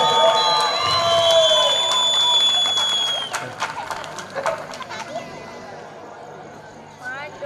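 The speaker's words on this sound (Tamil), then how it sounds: "கைதட்டுங்க." Crowd at a village Krishna Jayanthi festival stage in Paruthikulam raises a burst of cheering and children's shouts with whistles, fading into general hubbub and scattered voices.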